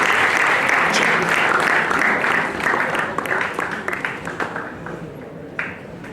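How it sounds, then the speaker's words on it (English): A college entrepreneurship summit audience gives steady, loud applause to welcome a speaker. It then thins into scattered claps as it fades. "Come on, keep the applause going."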